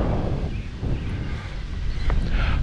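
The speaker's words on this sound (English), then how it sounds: "Oh, it's a bit windy." Wind buffets a microphone in low, uneven gusts, rumbling steadily for a few seconds.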